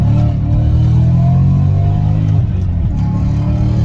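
A BMW M5 with lowered stance suspension accelerates, its engine giving a loud, close, steady drone with a firm low rumble that holds with little change in pitch throughout.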